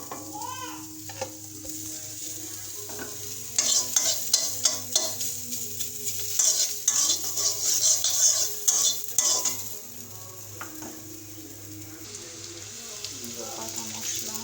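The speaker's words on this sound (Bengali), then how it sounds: "প্রথমে পেঁয়াজটা দিয়ে দিই।" Chopped onions sizzle in hot oil for a koi fish curry, with bursts of spatula stirring scraping the pan in the middle stretch before settling to a steady fry.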